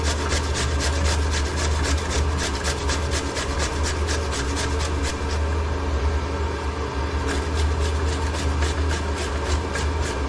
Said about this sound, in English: Just grind the potato.